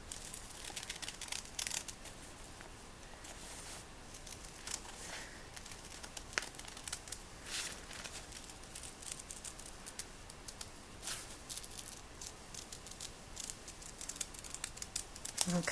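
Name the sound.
scissors cutting a paper pattern along a dotted line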